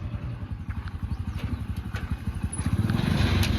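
A red-painted tractor on MRF tyres pulling a trailer forward: a steady, rapid diesel engine chug that is close and grows slightly louder toward the end, with no talking.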